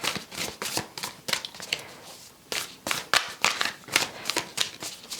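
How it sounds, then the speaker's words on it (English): A deck of oracle cards is shuffled by hand in quick bursts of crisp riffling and flicking, close and fairly loud, with brief pauses between bursts and no talk. "let's give it a quick shuffle."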